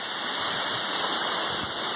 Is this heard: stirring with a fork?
no